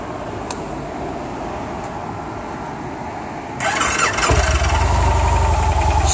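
A 2014 Victory Cross Country touring motorcycle with a phase one kit cranks with a whirring starter, then catches and settles into a loud, close, deep rumbling idle.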